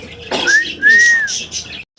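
Maltese pigeons of Andalusian colour, with a couple of clear rising-and-falling whistling notes and soft bird sounds nearby, brief and fairly loud.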